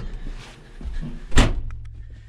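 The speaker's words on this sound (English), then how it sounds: "Let me get this door opened." A farm building door being opened, a short creak and rattle followed by one loud clunk near the middle, close by, with faint shuffling before and after.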